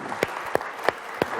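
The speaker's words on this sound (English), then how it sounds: "I think that we need to give our guests a big round of applause" Applause for the guests closing an economy panel session, heard here as a few distinct, evenly spaced claps over a soft background wash of crowd noise.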